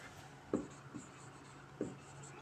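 A pen scratches across paper while a convex-lens displacement-method problem is worked out, giving a few short, quiet strokes with gaps between them over a soft background hiss.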